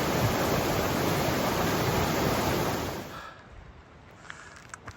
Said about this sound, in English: Last river crossing of the trip.